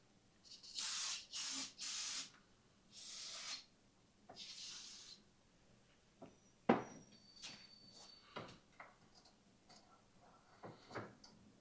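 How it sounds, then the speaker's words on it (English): Brake cleaner sprayed onto motorcycle fork tubes during a Suspension Technologies RT series fork cartridge install: three loud, close hissing bursts, followed by quieter clicks, taps and handling noises. "We got some brake fluid cleaner. That way we can clean this out"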